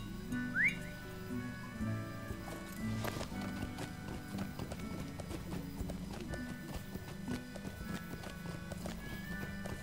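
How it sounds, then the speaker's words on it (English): Horse hooves clip-clop steadily in the online game Lord of the Rings Online as a mount sets off, set over a continuous bed of game music and ambience with a brief whistle near the start and no talking. "Might as well get on a horsey."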